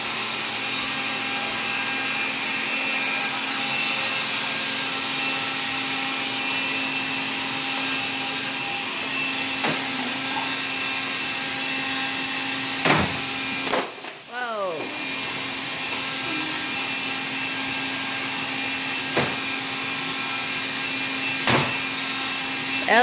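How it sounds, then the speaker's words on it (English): A vacuum cleaner runs continuously and loud with a steady whine, briefly dipping in pitch midway as it strains, with a few light knocks along the way. "go somewhere else and vacuum now."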